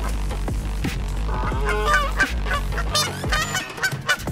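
Geese honk loudly and repeatedly at close range, a series of harsh nasal calls overlapping into a squabbling chorus.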